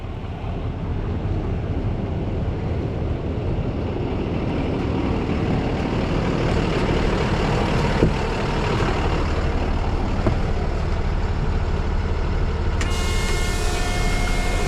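A Duramax truck engine idles steadily throughout, a constant deep rumble with a broad mechanical roar, close and loud with no talk over it.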